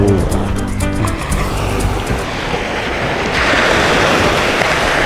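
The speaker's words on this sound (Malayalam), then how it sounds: "തിരമാല രൂപം കൊള്ളുന്ന ഒരു കാഴ്ചയാണ് നമ്മൾ കണ്ടുകൊണ്ടിരിക്കുന്നത്" Ocean surf at Kuzhupilly Beach, Kerala, washes in a steady broadband roar, swelling louder about midway as a wave breaks nearby; some faint tones sit low at the start.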